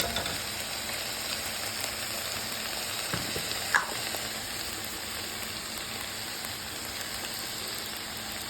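Bitter melon frying with chorizo gives a steady, soft sizzle close by, with a brief clatter of stirring near the middle and no talking.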